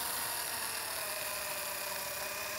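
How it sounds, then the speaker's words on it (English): A power disc sander spins against the bottom of a wooden stool seat turning the opposite way on a lathe, giving a steady, loud high-pitched whine and hiss that holds without a break. "to sand the bottom, I use power sanding, just a disc sander, running the opposite direction of the lathe"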